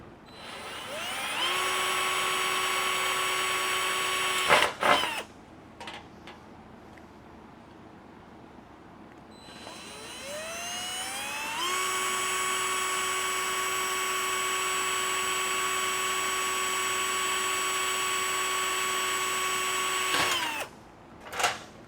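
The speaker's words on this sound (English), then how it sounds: "So I'm going to go ahead and drill 2 holes there." A power drill bores two holes in a Model A Ford trunk lid panel, each run a sustained high whine that spins up, holds steady for several seconds and winds down, separated by a quiet pause.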